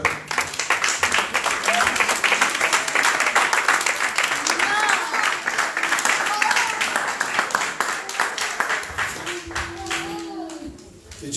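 Church congregation applauding during worship, a dense, steady wash of clapping that stays loud throughout, mixed with voices and cheering, easing slightly near the end.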